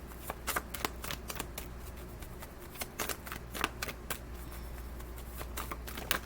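Oracle cards being shuffled by hand, a steady run of crisp papery riffles and flicks close up, with faint low hum beneath and no talking.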